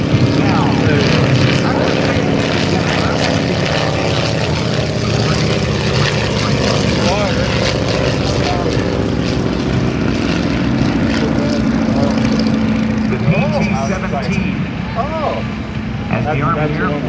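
A PT-13 propeller trainer with a 220 hp Continental engine drones loudly and continuously overhead at an airshow, while a voice talks over the engine noise throughout.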